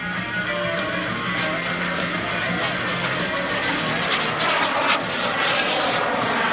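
SubSonex mini jet airplane performing at the 2021 Greenwood Lake Airshow, a loud continuous jet roar that swells and fades slightly as it passes, steady throughout with no talking.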